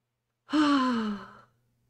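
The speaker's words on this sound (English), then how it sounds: "She's yawning." A woman gives a single drawn-out yawn with a falling pitch, close and clear, lasting about a second before trailing off into silence.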